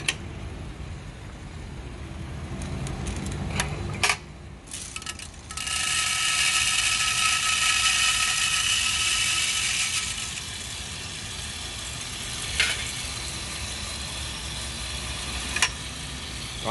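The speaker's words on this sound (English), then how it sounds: "So let me drop the beans now." Green Kenya peaberry coffee beans pour into a preheated M2 Sniper coffee roaster as a loud, steady rattling hiss that runs for several seconds alone and then settles into softer mechanical churning.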